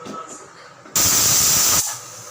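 A pressure cooker on a stove cooking goat head curry lets out a sharp, loud hissing steam whistle for about a second, cutting in abruptly and stopping just as suddenly, with quiet kitchen background before and after.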